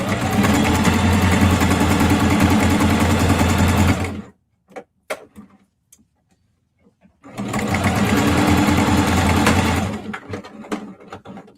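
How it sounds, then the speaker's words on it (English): A sewing machine top-stitches a denim tote bag trimmed with neckties. A loud, close motor hum runs for about four seconds, falls quiet with a few small clicks, then starts again for a second long run. "So I'm just going to top stitch this down."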